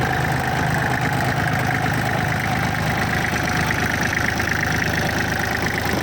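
A Kubota 34 tractor's diesel engine idles up close, a steady, even chugging rumble that runs unbroken from start to finish, with no one speaking.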